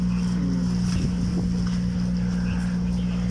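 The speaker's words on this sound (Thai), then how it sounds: "นั่งดูเรือละครับ" A boat passing out on the open sea, heard as a steady low engine drone with wind noise throughout, moderately loud and continuous.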